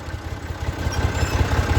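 A Massey Ferguson 240S tractor engine idles with a steady low, pulsing chug in a field, running close and fairly loud throughout.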